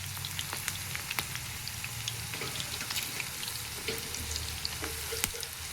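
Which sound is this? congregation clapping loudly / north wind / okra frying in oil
okra frying in oil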